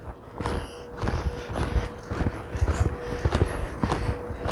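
A horse moves along at a lead, its hooves clip-clopping in a steady rhythmic beat of close, muffled thuds under an outdoor hum.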